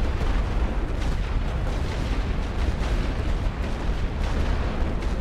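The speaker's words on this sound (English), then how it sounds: "I'll bring in some more light artillery as well to try to keep them off my riflemen for a little while" Light artillery fire in a First World War battle in The Great War video game, a dense continuous rumble of overlapping booms and bursts, loud and steady throughout with no voices.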